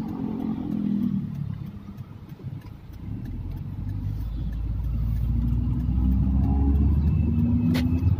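A 2000 Ford Lynx with a blinking hold light and a jerking, slipping transmission drives on a test run, its engine and road rumble steady and close, rising slightly in loudness toward the end.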